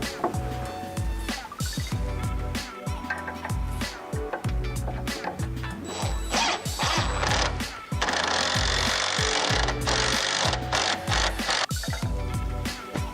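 A shelf bracket being mounted to a wall through pre-drilled pilot holes: loud, close bursts of power-tool whirring and rattling in uneven stretches, with clanks and knocks between them and a long, steady grinding run partway through.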